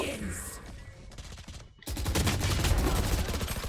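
Rapid bursts of VALORANT gunfire crackle, drop to a brief lull, then return as heavier, denser shooting.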